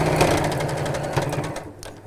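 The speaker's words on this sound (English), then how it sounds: "You can hear it sewing over that ribbon bit" A sewing machine stitching steadily over thick ribbon fabric, a loud close, even mechanical chatter that runs for about a second and a half and then stops.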